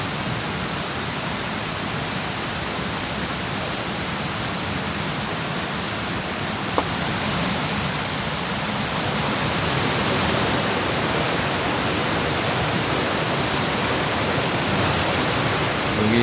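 A waterfall at an autumn campsite gives a steady, unbroken rush of water, even and full throughout with no other sounds standing out.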